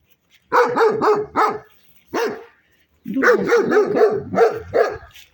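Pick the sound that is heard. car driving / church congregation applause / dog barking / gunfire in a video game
dog barking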